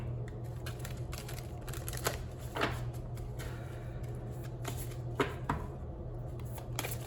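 A Moonology Manifestation oracle card deck is shuffled close by, with soft repeated riffling flicks and a few sharper card snaps over a steady low background hum.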